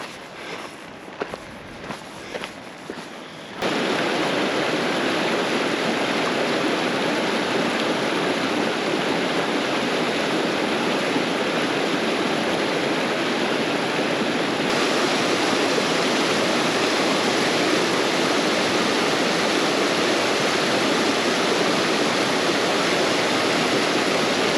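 Loud, steady rush of a creek in the Grand Canyon on the way to Ribbon Falls, close by and constant after a few seconds of faint footsteps and rustling.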